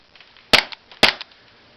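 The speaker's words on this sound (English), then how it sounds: "There's shooting with my pellet pistol, shooting the pack and take one." Two sharp pellet pistol shots strike DIY plastic sheet targets about half a second apart, each a loud crisp crack with a brief rattling tail, close by and otherwise quiet.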